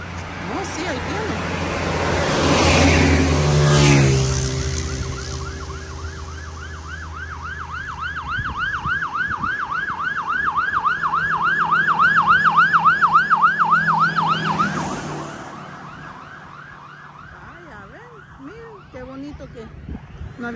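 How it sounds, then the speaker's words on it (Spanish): Ambulance siren wailing through traffic, rising and falling in steady cycles as it nears and passes, loud over rumbling vehicle noise with people talking nearby. "Ahí viene la emergencia, la ambulancia."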